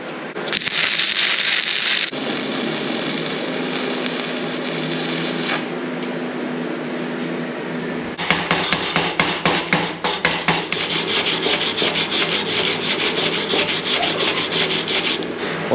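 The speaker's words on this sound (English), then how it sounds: "we'll see how this burns some stick electrodes" Stick electrodes burning on an Everlast PowerTig 210EXT welder, giving a steady loud crackling hiss that stops briefly mid-clip and restarts with sharper popping bursts, no talk.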